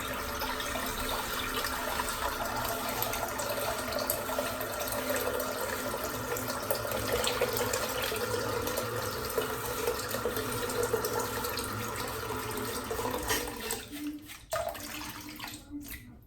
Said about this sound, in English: Just filling the sink up a little bit more water.